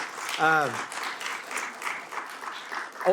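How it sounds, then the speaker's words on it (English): An audience at a city meeting gives a round of applause for city staff, scattered clapping running under a speaking voice that continues over it. "I'd actually ask if we gave our city staff and folks a big round of applause"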